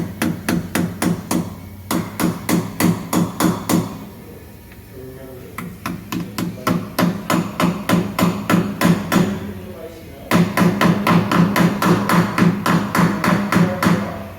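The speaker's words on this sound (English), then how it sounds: "you want to hammer it good so it won't come off while driving down the highway" Rapid, even hammer blows strike metal as a wheel balancing weight is hammered onto a tire rim, in three long runs of sharp, loud taps, with brief pauses between runs and no talking.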